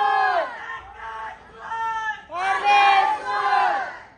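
A large crowd gathered for a dhol-tasha troupe's practice launch shouts and cheers in rising, overlapping waves, loud and close, swelling again halfway through.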